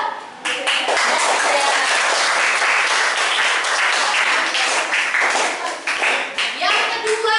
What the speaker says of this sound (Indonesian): Tepuk tangan buat mbak siapa ini?